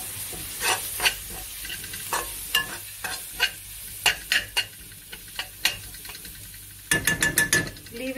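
A spoon scrapes and clacks in a pan of lamb curry masala as red chili powder, coriander powder and black pepper are stirred in. The strokes come in sharp, irregular, close-up bursts over a soft sizzle.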